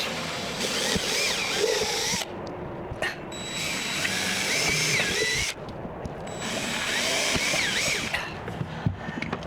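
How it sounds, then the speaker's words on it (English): A power drill whirs steadily and close, drilling small holes in a boat, cutting out briefly twice before starting up again, with the bit grinding through the material. "the thing with drilling holes, small holes in your boat, is you can always fill them."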